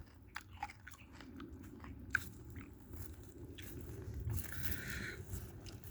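Someone eats rice outdoors at a forest meal, soft wet chewing and biting sounds close by and fairly quiet, with a few sharper crunchy clicks over faint background noise.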